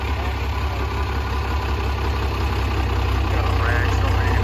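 A Chevrolet Silverado truck with a 408 stroker engine and nitrous rumbles loud and steady at close range, a deep idle that builds slightly toward the end, with voices faintly under it.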